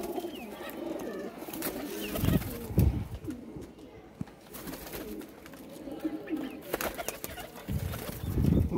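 Pigeons of a grey breed, kept as pairs in Gujranwala, coo in repeated low throaty phrases at close range, with occasional wing flutters and a voice talking over them intermittently.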